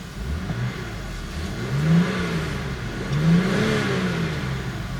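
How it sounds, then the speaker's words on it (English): A stock BMW X5 E70 on its factory exhaust revs up twice, each rise a quiet, muffled swell over a low steady engine hum, with nobody talking. "So this is what the car sounds like bone stock."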